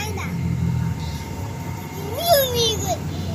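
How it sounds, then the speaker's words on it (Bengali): A kitten meows once in a rising and falling cry over a quiet room hum, brief and fairly close, with a low murmur of voices early on. "ও মিয়াও মিয়াও করছে।"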